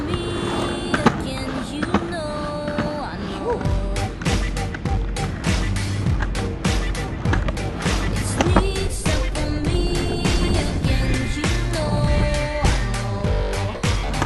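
A Carver surfskate on large polyurethane wheels rolls fast over a concrete streetscape, a loud continuous rumbling roar with repeated clacks and bumps from seams and tricks, close and steady throughout.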